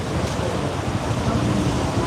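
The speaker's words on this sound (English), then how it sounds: "It's a wild and crazy, windy, rainy kind of a day." Steady, rushing wind noise buffets the microphone continuously on a windy, rainy day, with a low roaring rumble throughout and no voices.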